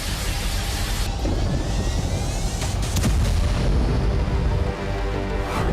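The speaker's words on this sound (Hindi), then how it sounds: "रूस ने FAB 1500 बम गिराया, जिसके बाद जबरदस्त धमाका देखा गया।" A FAB-1500 aerial bomb blast in Siversk, Donetsk, rolls out as a loud, sustained, rumbling roar with crackling bursts, heard from a distance without speech.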